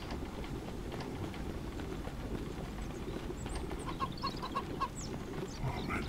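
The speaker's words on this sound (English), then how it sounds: "Oh man, these chickens." Chickens in the video game Mist Survival cluck in short, soft clustered calls in the second half, faint and somewhat distant over a steady low outdoor rumble.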